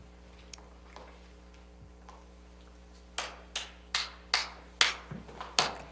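Children in a music class clap a short rhythm pattern in turn: a few faint taps, then a series of sharp, close claps in an uneven beat over a quiet room hum.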